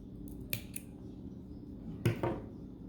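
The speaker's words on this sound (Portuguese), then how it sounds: "Vou puxar aqui esse fio e já cortar o excesso dele" Scissors trimming the excess thread from a crocheted amigurumi seahorse: a couple of quiet, close snips, one early and a sharper double cut near the end, over a soft, hushed room.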